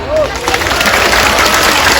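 Audience clapping at an Islamic sholawat gathering in a Taichung park in Taiwan, a steady broadband patter filling the space, with a singing or chanting voice briefly over it and background crowd noise.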